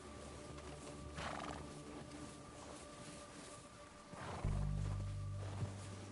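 In a video game, a horse snorts and neighs, with a few hoof thuds and low rumbling, set against a steady droning game-world ambience.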